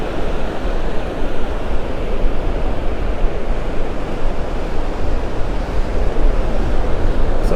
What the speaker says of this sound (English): Wind hitting me in the face now.